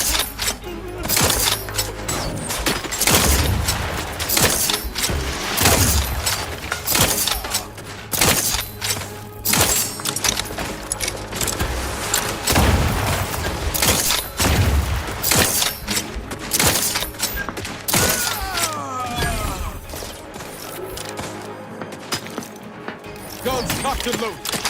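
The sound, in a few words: gunfire during a fight in the video game The Outer Worlds 2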